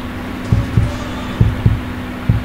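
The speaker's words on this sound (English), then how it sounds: "whenever you hear your heart beating" A loud, close heartbeat from a video game thumps in paired beats, three double pulses spaced evenly over a low hum, with no talking.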